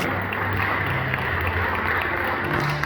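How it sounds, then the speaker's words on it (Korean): Wedding guests applaud after the ring exchange, a steady, even wash of clapping from a crowd in a hall, continuous and moderately loud. "네, 큰 박수 부탁드립니다."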